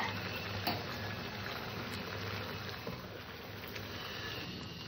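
Vegetables boil in a pot, making a continuous soft bubbling and simmering hiss. The sound is close and steady, with occasional small pops, and no one talks.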